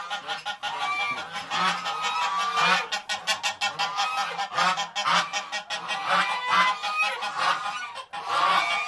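Geese in a goose shed honk loudly and continuously, a dense close chorus of harsh repeated calls with choppy rhythmic bursts and no talking.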